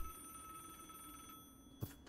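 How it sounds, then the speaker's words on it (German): Telephone ringing inside the video game Vigor, a faint, thin electronic ring under steady in-game ambience, followed near the end by a couple of sharp louder clicks. "da klingelt ein Telefon"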